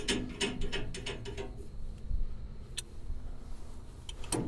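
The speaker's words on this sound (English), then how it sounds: "you want to tighten these jam nuts up so it can't back off on you." Wrench ratcheting as jam nuts are tightened on the turnbuckles of a flex-wing cutter, a quick burst of metallic clicks followed by scattered single ticks, faint and close.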